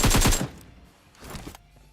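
Automatic gunfire in PUBG Mobile, a rapid loud burst at the start followed by a second, fainter burst about a second later, with no talk over it.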